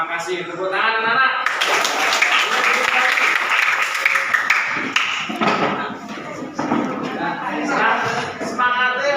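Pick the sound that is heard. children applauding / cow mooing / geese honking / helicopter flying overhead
children applauding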